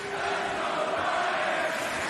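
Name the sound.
wrestling crowd chanting "let's go, Bryan"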